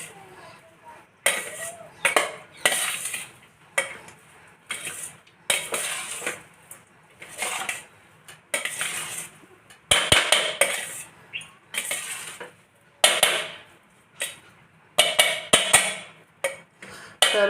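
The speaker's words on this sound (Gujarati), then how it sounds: "અને સરસ હલાવી દઈશું આમાં" Spoon clatters against a pan while sabudana khichdi with potatoes and peanuts is stirred, giving repeated close scraping and clinking bursts at an irregular rhythm, with short pauses between strokes.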